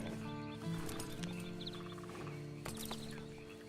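A horse in the video game Red Dead Redemption 2 shifts and clops its hooves with a brief neigh, all faint and short beneath ambient game music.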